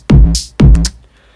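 Two punchy electronic dance music drum hits with booming low kicks and bright hi-hat or snare bursts, programmed in Ableton, sounding a little thin and unpolished before mixing, loud and close with no voices.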